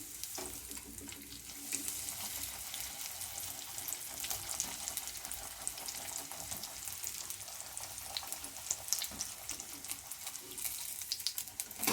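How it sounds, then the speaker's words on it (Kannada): Raisins, cashews and almonds frying in hot oil for avalakki oggarane, a steady close sizzle with crackling pops throughout and no talking. "ದ್ರಾಕ್ಷಿ, ಗೋಡಂಬಿ, ಬಾದಾಮಿ ಹಾಕ್ಕೊಳ್ಳೋಣ. ನೀಟಾಗಿ ಫ್ರೈ ಮಾಡ್ಕೊಳ್ಳೋಣ."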